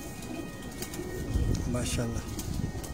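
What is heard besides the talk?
racing pigeons cooing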